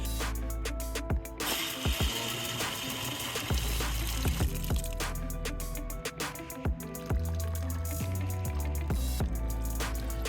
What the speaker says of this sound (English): chuck the hose on it and see if it's able to flow all of that water out the pipe